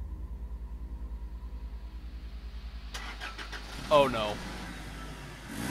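A car engine in the Cry of Fear video game pulses in a low rhythmic idle, then bursts into a louder start and rev as a man exclaims briefly over it.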